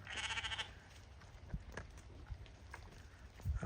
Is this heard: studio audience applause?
no